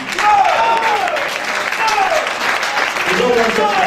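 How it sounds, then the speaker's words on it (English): Church congregation clapping hands in loud, sustained applause, with a preacher's voice carrying over the clapping. "Everyone clap your hand for Jesus, for this brother."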